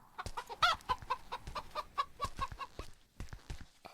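Chickens clucking in the horror video game Chicken Killer, a close, steady run of short repeated clucks over about four seconds, with a brief pause before a few final calls.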